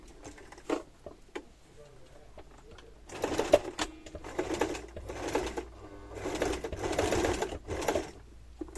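A sewing machine stitches a soft children's mouse-shaped bag in several rapid, rattling bursts. Quiet handling sounds come between the runs of stitching.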